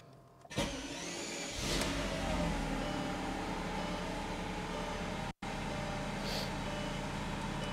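A car engine cranks briefly and catches, then settles into a steady idle that runs on, with a short cutout partway through.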